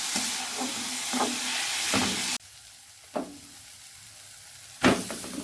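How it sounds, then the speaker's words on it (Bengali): Food frying in a pan gives a steady sizzling hiss that drops sharply when a lid goes on, then continues more quietly with occasional clinks of a utensil against the pan; no one speaks. "এরপর এটাকে আমি ভালো করে ভেজে নেবো।"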